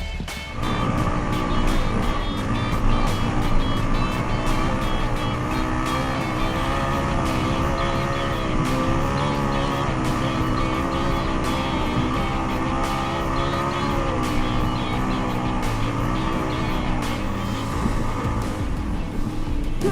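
An off-road motorbike ridden slowly through snow on a steady throttle, its engine droning close and continuously with slight pitch wavers and occasional sharp clicks, no speech.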